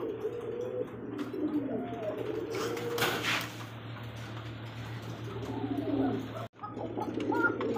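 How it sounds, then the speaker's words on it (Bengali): Pigeons coo steadily at close range, Danish and Lahori birds including a black Danish pigeon of Pakistani bloodline, with a low continuous hum underneath and a brief gap near the end. "এত সুন্দর একজন পেয়ার পাকিস্তানি ব্লাড লাইনের মধ্যে ড্যানিশ কবুতর ব্ল্যাক কালার"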